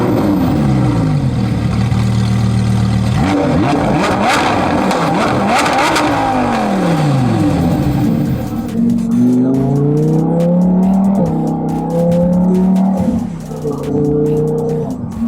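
A Lamborghini Huracán STO's engine revs hard while driving, its loud roar climbing and falling through repeated gear changes, close and dominant throughout with no talk.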